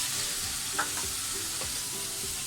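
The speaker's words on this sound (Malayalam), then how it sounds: "അതുവരെ നന്നായിട്ട് അങ്ങോട്ട് വഴറ്റി കൊടുക്കുക കേട്ടോ" Steady sizzling of tomato sautéing in a pan for egg curry, with a few soft scraping stirs of a spoon, close by and with no voices.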